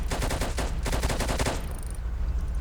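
Cannon fire from a tank in a war video game, heard as two rapid bursts of loud crackling blasts, then a high ringing tail fading into quieter background.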